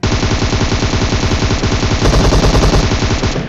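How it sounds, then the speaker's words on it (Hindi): Rapid automatic gunfire from a mobile shooter game played on an iPad Mini 5, sustained dense bursts that stay loud and up close throughout, with no talking over them. "एक बंदा जस्ट कूदा और फायरिंग करना स्टार्ट कर दिया"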